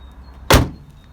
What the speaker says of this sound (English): Let's get the bonnet down.